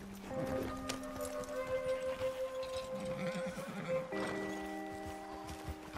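Horse hooves clip-clop in Red Dead Redemption 2, with neighing and a whinny over steady background game music.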